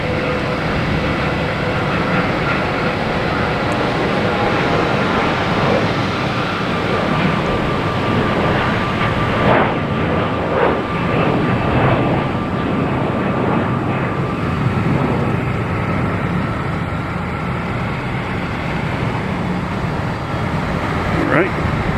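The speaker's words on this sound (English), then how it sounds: "We have American Airlines heading to LaGuardia," American Airlines Embraer E175 jet at Boston Logan bound for LaGuardia, a loud sustained engine roar and rumble with a person talking over it.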